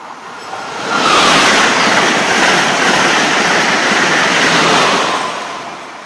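Amtrak Acela Express train rushing through Croydon Station under overhead wires, a loud close whooshing roar that swells quickly, holds for several seconds, then tapers off.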